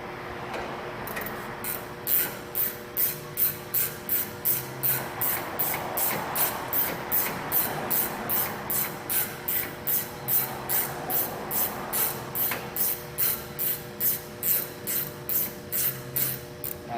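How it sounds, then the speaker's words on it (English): A Milwaukee 3/8 battery-powered ratchet backs out the brake caliper pins on the rear brakes of a 2008 Ford Expedition, giving a steady run of rapid, evenly spaced mechanical clicks close by that goes on for many seconds without talk. "My next tool is going to be the Milwaukee 3/8 battery powered ratchet."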